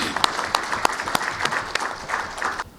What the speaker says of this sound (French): Il mérite nos éloges et applaudissements.